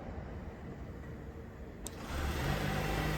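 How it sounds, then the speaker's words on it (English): A 2022 Honda Accord Sport Hybrid running after a remote start, faint and distant at first, then a low engine hum rising and settling in after a brief click partway through. "And you hear the car run."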